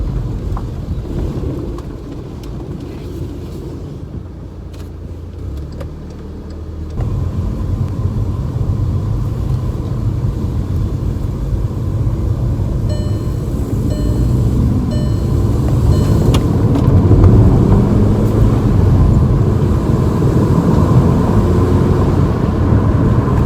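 A rebuilt 2012 VW Golf GTi with a 2.0 TSI engine on a road test drive, its steady engine hum and road roar rising after a few seconds and holding loud and continuous, with no talking.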